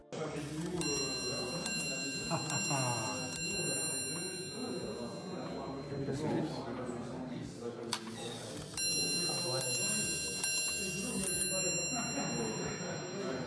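A cheetah clock automaton chimes the hours, bright sustained bell tones ringing in repeated strikes over a busy mechanical background, with talk running under much of it.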